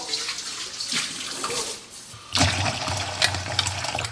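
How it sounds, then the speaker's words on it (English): Tap water runs into a bowl being washed in a kitchen sink, a splashing gush that thins out and then returns fuller and louder, close and continuous with no speech. "We're gonna wash this bowl."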